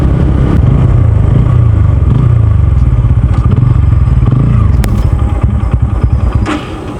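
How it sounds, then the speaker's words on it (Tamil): TVS Apache N160 motorcycle engine running loud and close with a rough, uneven pulsing idle, sputtering continuously before dropping in level near the end. "இப்போ தான் லைட்டாக வண்டி உருமுத ஆரம்பிக்குது."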